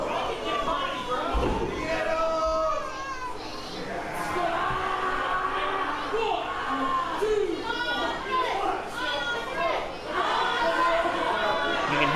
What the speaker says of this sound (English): The crowd chanting for Andre